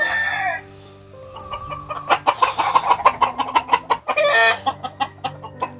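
Chickens cluck close by in a rural coop, with a run of quick rhythmic clucks and a few squawks after a brief quieter pause, no voices.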